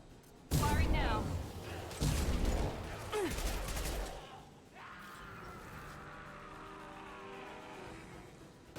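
Gunfire in the video game Mass Effect Legendary Edition, loud heavy bursts and crashes in the first half that give way to a lower steady hum, with voices heard briefly.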